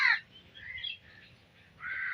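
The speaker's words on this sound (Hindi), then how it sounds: "ये देखो कौवे, ये फिर से हमें कौवे तंग करने के लिए आ गए यहाँ पर।" Crows caw in a Pakistani village, a loud harsh call at the start, fainter caws in the middle and another strong, drawn-out caw at the end, with a low rumble of background noise underneath.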